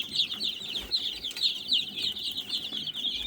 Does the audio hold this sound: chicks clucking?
yes